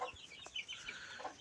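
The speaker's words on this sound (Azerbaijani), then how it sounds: "Budur 5 dənə ördəyimlə dəyişdiyim xoruzumuz" A farmyard rooster gives a few short, close clucks in quick succession, clear against light background noise, with no talking.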